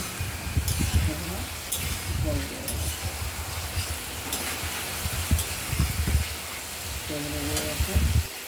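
Potatoes and spice paste sizzle while sautéed in a pan, a continuous frying hiss with repeated scraping strokes of a spatula and clatter, with a voice talking over parts of it.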